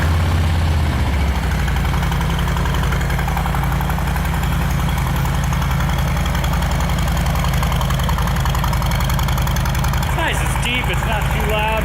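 A car engine idles steadily and loudly up close through new exhaust pipes with the resonators still fitted, a constant low rumble throughout, with a voice briefly heard near the end.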